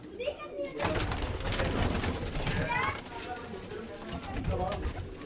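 Pigeons kept by a Punjabi pigeon fancier coo in a loft, soft repeated calls mixed with fluttering and rustling while someone talks close by throughout.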